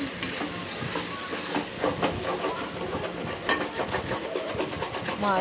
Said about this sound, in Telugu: మష్రూమ్ వేసిన తర్వాత కలుపుకుందాం